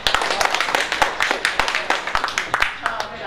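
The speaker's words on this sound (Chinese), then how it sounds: "大家鼓掌啊" Scattered hand claps from a crowd at a Lunar New Year temple carnival in Taiwan, sharp irregular slaps layered over busy background chatter and noise.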